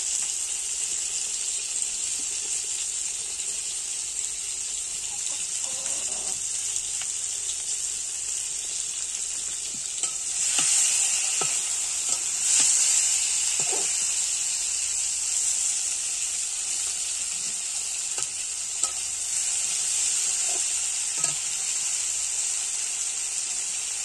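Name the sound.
eggplant frying and sizzling in a pan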